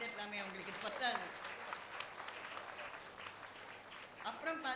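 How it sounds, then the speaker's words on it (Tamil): A school-day audience applauds the teachers, a broad wash of clapping running steadily under a speaker's voice and swelling again toward the end. "இன்னும் சிறப்பாக கைத்தட்டலாமே, அவங்களுக்கு இது பத்தாது."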